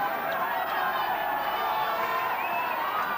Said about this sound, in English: a big round of applause as both teams break up in the usual huddle